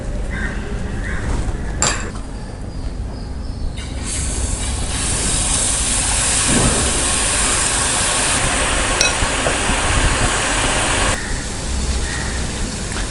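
Boondi batter deep fries in hot oil, a loud, sustained hissing bubble that swells in the middle and carries on with scattered clinks of a ladle.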